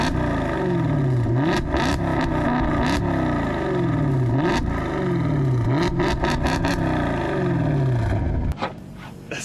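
A Maserati GranTurismo engine roars loudly as the car accelerates hard on a drive. The pitch climbs and drops back at each gear shift, repeating several times before the sound cuts off abruptly.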